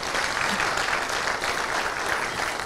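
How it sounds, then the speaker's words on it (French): Audience applause at a film club screening honouring an African cinema actress, dense sustained clapping from a crowd, steady and fairly loud throughout with no talk over it. "Madame Ramatou Keïta, que je vous demande d'applaudir très fort"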